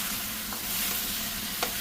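Large tomatoes sauté in a pan as they are stirred, giving a steady, close frying hiss with a couple of light utensil taps, no voices.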